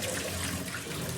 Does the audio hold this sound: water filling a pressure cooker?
yes